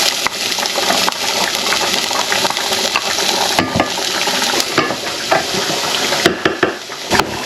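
Onions fry with cloves, cardamom and cinnamon in a pan, a continuous close sizzle broken by repeated scraping, clattering stirs of a spoon against the metal.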